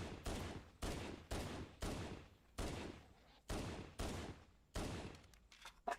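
A machine gun fires in a video game, delivering about eight separate bursts, each a sharp attack that trails off, spaced roughly half a second to a second apart and heard at a moderate distance.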